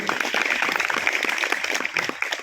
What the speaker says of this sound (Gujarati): સ્નેહાબેન માટે એકવાર જોરદાર તાળીઓ